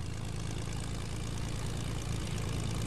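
A propeller airplane engine in Fortnite drones steadily with a low, even hum for several seconds, loud and constant with no talking.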